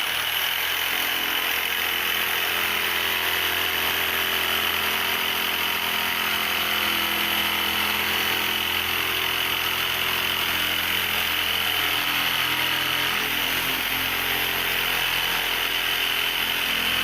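A power shear cuts along the inside edge of a steel rear panel on a 1945 Willys Jeep MB, giving a steady, loud, continuous mechanical buzz with a high whine that runs unbroken for the whole stretch, with no talking.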